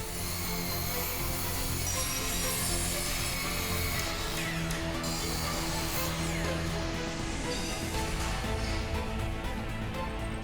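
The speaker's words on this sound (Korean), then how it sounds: "굉음과 함께 순식간에 나무를 절단하는 전기톱은 언제나 위협적이다" A chainsaw cuts through thawed timber being processed into lumber for building an arched round house, a continuous loud dense roar with grinding and rasping throughout, no voices.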